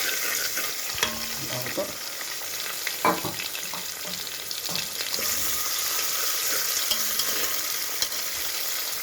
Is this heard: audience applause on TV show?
no